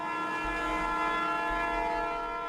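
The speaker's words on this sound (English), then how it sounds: "Remember this train? The one going 40 miles per hour?" Train at 40 miles per hour nearing a level crossing, its horn blaring in a long, steady, loud chord with a low rumble of the moving train beneath; no voices.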